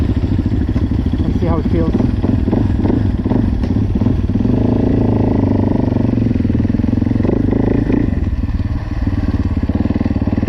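A Yamaha YZ450F-type dirt bike engine idles while warming up, a loud, steady, close rumble with a fast pulsing beat that runs throughout, while someone talks over it.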